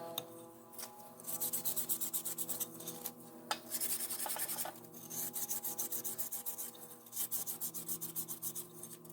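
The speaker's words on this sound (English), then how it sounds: "I'm going to have to do some hand sanding on the inside of this" Rapid back-and-forth rasping of hand sanding the inside of a metal rear engine cover on a 5.3L LS engine, in bursts of strokes over a steady background hum.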